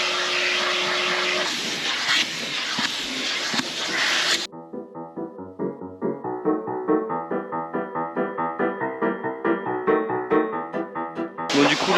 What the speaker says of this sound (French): Bon du coup là on passe l'aspirateur dans la voiture,